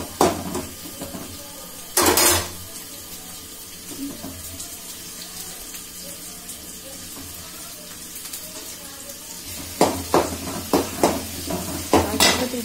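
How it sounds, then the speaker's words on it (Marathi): Onion-chili paste and ginger-garlic paste hit hot oil in a pan for a green peas curry, giving a short burst of sizzling early on, then quieter hissing and a run of louder crackling spurts near the end. "आता आपण याच्यात कांदा मिरची पेस्ट अद्रक लसूण पेस्ट टाकूया."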